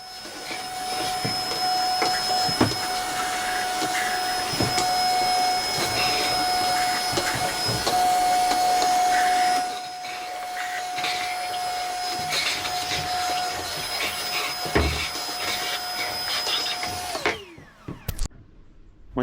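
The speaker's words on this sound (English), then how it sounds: "grab my trusty Hoover and clean up all the shavings" Loud, steady vacuum cleaner roar with a high whine, with rattling clicks and knocks of wood shavings being sucked up in a workshop, then the motor cuts off near the end.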